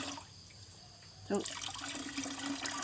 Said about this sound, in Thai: ซาวสามครั้งนะคะ แล้วก็เทลงไปแล้วก็เติมน้ำอีก